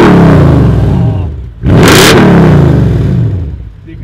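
A Mercedes CL 500 with a valved flap exhaust revs hard twice, its roar rising and falling, with a brief sharp crackle between the two blips.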